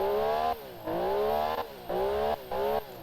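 Porsche engine in a car-building video game revs hard in repeated bursts, rising pitch climbing through each pull, with brief drops to idle between about four sharp surges; loud and close, no talking.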